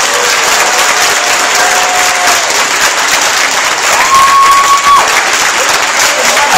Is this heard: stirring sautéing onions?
no